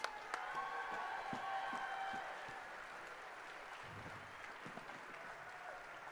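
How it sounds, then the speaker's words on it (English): Moderate crowd applause outdoors for the first-, second- and third-place winners of a crappie fishing tournament, quick claps fading within a few seconds into quieter ambient noise. "Give them a big round of applause."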